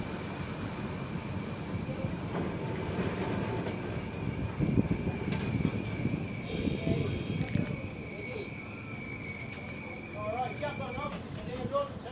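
A Sydney O-class tram, number 1111, rumbles steadily toward a tram stop with a sustained whining tone, while bird calls and faint voices come through near the end.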